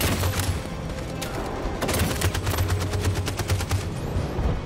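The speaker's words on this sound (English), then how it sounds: "Can't be running straight into gunfire." Rapid gunfire from the video game Detroit: Become Human, bursts of automatic shots crackling repeatedly over a dense battle din, loud and continuous, with no talk.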